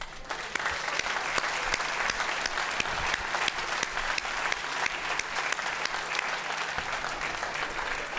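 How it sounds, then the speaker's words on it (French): Applause at a media awards ceremony: a dense, steady audience ovation with sharp individual claps standing out from the crowd, sustained for about eight seconds with no speech over it. "je pense que son courage mérite nos applaudissements"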